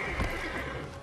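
A horse whinnies briefly in the video game Assassin's Creed, over a low background hum, with faint hoofbeats.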